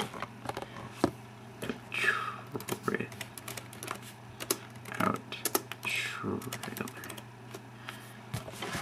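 Quiet keyboard typing at a computer, with irregular clusters of soft clicks near the microphone and brief pauses, while a person speaks now and then over a low steady hum.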